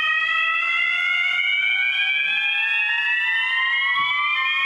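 A fire alarm sounds continuously during an online seminar, a steady electronic tone with harmonics slowly rising in pitch, loud and alone with no talk over it.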